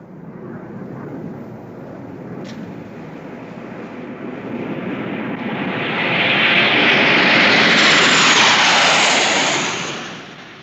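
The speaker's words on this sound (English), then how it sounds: "Sabre jets of the Royal Canadian Air Force." Royal Canadian Air Force Sabre jets stationed in West Germany roar past, a broad rushing jet noise building from a distant rumble to a loud close pass with a rising whine, then fading quickly.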